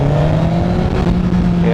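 Engine of a 2016 Honda CBR1000RR Fireblade SP motorcycle accelerating in first gear, a loud, steady rising drone with strong low harmonics filling the whole stretch close up.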